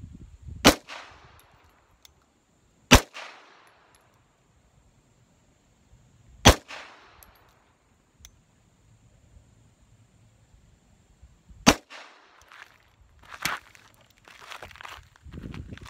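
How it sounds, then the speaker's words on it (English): A Springfield Armory 1911 Mil-Spec pistol fires during an ammunition test at a target range: about five sharp, loud, close shots spaced several seconds apart, each with a short echoing tail, ending in softer handling clatter. "So I shot these last two DEA dots here, the 5 and the 6."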